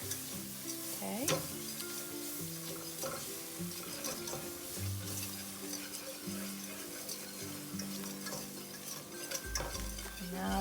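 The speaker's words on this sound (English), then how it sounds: "Now that we got it, that pretty much stirred in." Macaroni and cheese sauce, a copycat Noodles & Company recipe, stirred in a pan as milk is worked in, with continuous close scraping and bubbling sizzle and intermittent clinks, no voices.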